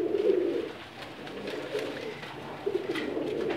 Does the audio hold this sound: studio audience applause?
no